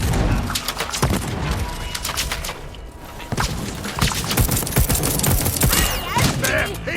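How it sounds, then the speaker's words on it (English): Rapid gunfire from the Deathloop video game, including punchy shotgun blasts and snappy SMG and pistol shots, rattles in dense, loud volleys with heavy booms throughout. "The shotguns feel punchy and sound meaty, and the SMGs and pistols are light and snappy."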